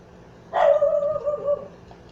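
A dog lets out one drawn-out bark that trails into a yelping whine, clear and fairly close over a quiet room background.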